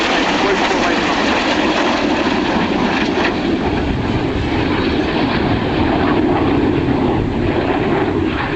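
Aircraft flying in close formation at an outdoor air show, a loud steady engine roar that fills the whole stretch without letting up, close and constant with no clear changes.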